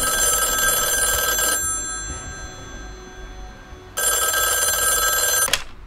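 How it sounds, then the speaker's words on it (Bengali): An old-style telephone rings with a loud, continuous electric bell trill, a pause of about two seconds between two long bursts, close and alone with no voices. "এমন সময় টেলিফোন বেজে"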